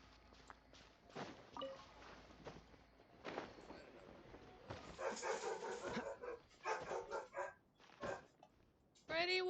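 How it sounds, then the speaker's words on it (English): A dog barks in a series of sharp, irregular yips and woofs mixed with whimpers, close by, alongside footsteps and a person talking. "why are you barking?"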